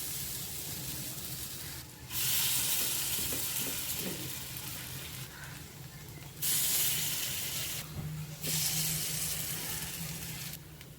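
Spoonfuls of rava appe batter sizzle in hot oil in an appe pan, giving a loud, steady hiss close by, with several short surges where the frying suddenly swells louder.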